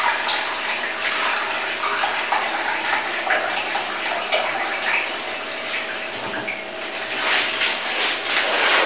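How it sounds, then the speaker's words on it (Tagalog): Water is poured from a tap into a container, a steady, close, rushing splash that stays even throughout with small fluctuations in level. "lagyan mo muna siya ng tubig"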